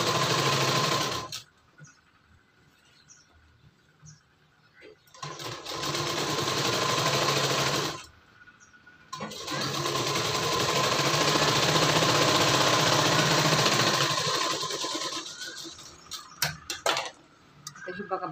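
A sewing machine stitches a prince-cut blouse in loud, steady whirring runs separated by short pauses, ending in a few brief bursts near the end.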